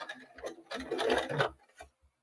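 A sewing machine runs in short bursts while stitching fabric for a divided drawstring bag, its needle chattering for about a second, then pausing, with a few brief taps at the end.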